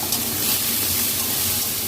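Grated cabbage and carrot being stirred in a hot frying pan with ginger and garlic, a dense continuous sizzle and hiss that stays steady and close throughout.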